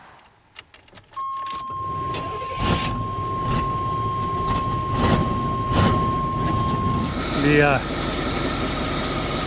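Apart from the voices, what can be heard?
plow truck engine starting after jump start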